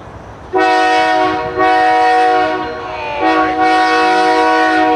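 Freight train led by locomotive 911 blasting a K5L horn, a loud, close multi-chime chord sounded in several long bursts with a short break, over low rumbling rail noise.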